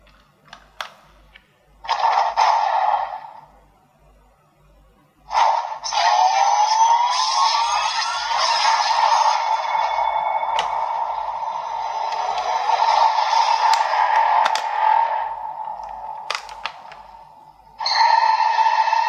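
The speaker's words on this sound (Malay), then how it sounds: "Dan saya rasa itu bunyi henshin episod 5." A DX Century King Sun Driver toy belt from Kamen Rider Black Sun plays its electronic henshin transformation sound, a chiming, whooshing sequence in several bursts separated by short pauses, clear and close.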